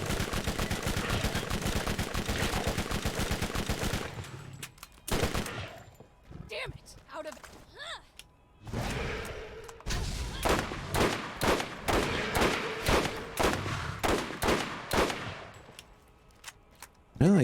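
Rapid repeater pistol shots in Borderlands, a long stream of fast gunfire at first, then a quieter gap with small effects, followed by spaced bursts of single shots, with a voice talking faintly underneath.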